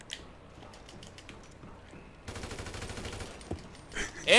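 Gunfire in GTA 5 Online: a dense, rapid fusillade of shots erupts midway, fairly distant at first, with a few louder, closer blasts near the end.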